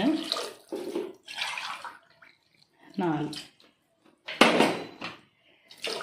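Water is poured into a cooking pot for vegetable biryani in several separate splashing bursts, with a voice speaking briefly between the pours.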